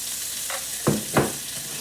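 Fresh garlic hits a hot pan and fries with a steady crackling sizzle, with two brief louder stirring scrapes in the middle, close and alone.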